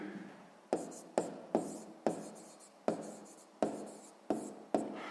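A pen writes on paper in short scratchy strokes, each starting with a sharp tap and trailing off, about eight in a quick irregular rhythm, close and with no talking.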